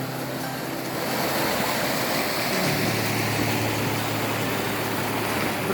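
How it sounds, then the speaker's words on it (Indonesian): A clear river runs across a road crossing near the coast, a steady broadband rush of flowing water that grows slightly louder after the first second and holds continuously, with no talking. "Ya, lumayan jernih ini aliran sungainya, airnya."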